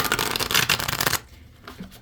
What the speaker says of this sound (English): You need some hand strength to shuffle these though.